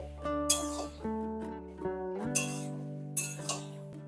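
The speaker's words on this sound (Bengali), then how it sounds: "আবারও আমি ঢাকা দিয়ে দিলাম" A metal or glass lid is set back on a cooking pan, giving several ringing clinks and clatters with resonant tones that hang briefly. Close and fairly loud, heard without talk.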